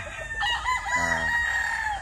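A rooster crows nearby, a single drawn-out call with clucking mixed in against a quiet background.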